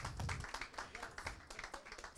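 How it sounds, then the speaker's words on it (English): A conference audience at a parliamentary gathering applauds, a steady wash of moderately faint clapping heard from across a meeting room. "A round of applause for this table."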